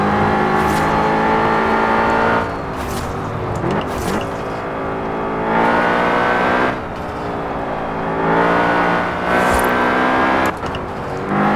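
A BMW M5 engine in Forza Horizon 4 revs hard and accelerates through several gear changes, loud and close, with brief dips between pulls.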